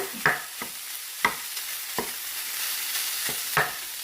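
Lean ground beef breaking apart as it fries in a hot pan: a steady sizzle runs throughout, punctuated by about five sharp scraping knocks of a utensil spaced roughly a second apart, close and clear with no voices.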